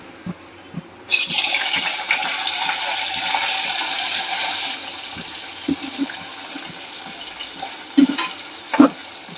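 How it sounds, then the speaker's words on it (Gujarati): Two hundred grams of cubed paneer sizzles in hot oil in a home kitchen pan: a steady, close, bright hiss that starts abruptly, then settles into a lower crackle with a few clinks near the end. No one speaks. "બસો ગ્રામ પનીર લીધું છે એ આપણે આ તેલમાં છે ને તળી લઈશું"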